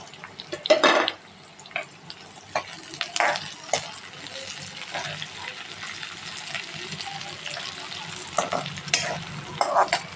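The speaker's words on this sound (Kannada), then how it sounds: "ಈಗ ಕರಿಬೇವ, ಕೊತ್ತಂಬರಿ ಹಾಕ್ತೀನಿ." Curry leaves and coriander hitting hot oil with onions in a pan for a brinjal palya, sizzling steadily while a spoon scrapes and stirs in bursts, loudest near the start and again toward the end.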